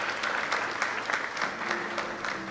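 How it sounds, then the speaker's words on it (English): Audience applause at a preschool and primary school graduation ceremony, a steady dense patter of many hands clapping throughout, moderately loud and even, with no voices over it. "A round of applause for her."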